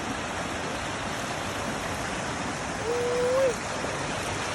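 A waterfall swollen by a rainy season pours with a steady, even roar that fills the scene, and a brief tonal voice or whistle rises briefly over it.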